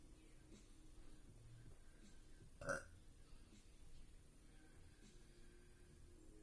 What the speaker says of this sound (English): I don't know where that burp came from.